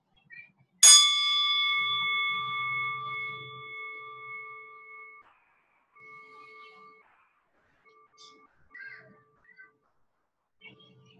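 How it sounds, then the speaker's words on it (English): A single meditation bell struck once, ringing clearly with a sustained, shimmering tone that slowly fades away in a quiet room, followed by faint scattered small noises. "After the bell dies down,"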